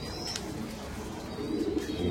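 A strong, lively pigeon cooing softly and briefly up close, with a faint chirp over low background rumble.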